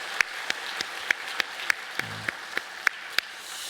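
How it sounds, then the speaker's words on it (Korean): Church congregation at a Korean service gives sparse, slow clapping, a dozen distinct claps at a steady pace, fairly quiet. "영광의 박수와 감사의 박수를 올려드리겠습니다"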